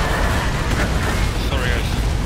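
Several grenade blasts roar together in a Space Marine multiplayer match, a loud, dense rumble of overlapping booms and debris, with a player's voice partly heard over the din.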